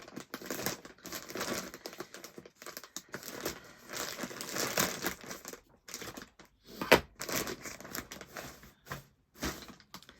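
Plastic packaging crinkles and rustles up close as a parcel is torn open, with bursts of crumpling and brief pauses.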